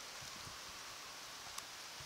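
Rain falls during a wind storm among trees, a faint, steady hiss with soft rustling and a few small knocks, distant and quiet.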